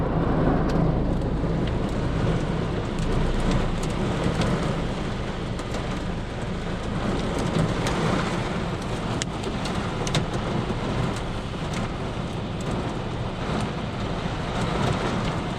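A Thai summer storm pours heavy rain, with hail and lightning, onto the street and a parked car after a walking-street market. A dense, constant roar of downpour runs throughout, with rumbling thunder mixed in and no voices.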